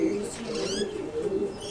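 Pigeons or doves bred by a keeper coo in a low, steady warble close by, with faint chirps and tweets above and some nearby voices talking.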